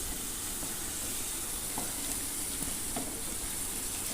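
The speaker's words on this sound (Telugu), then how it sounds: "బాగా కలుపుకుందాం" Ginger and turmeric stirred in an oiled pan for a soya chunk curry, a faint steady sizzling hiss with a couple of soft spoon scrapes, no talking.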